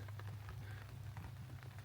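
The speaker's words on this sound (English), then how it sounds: "Starts pouring down rain." Rain pouring down in total darkness, heard as a soft, continuous patter on surfaces with scattered drop impacts, faint and steady throughout.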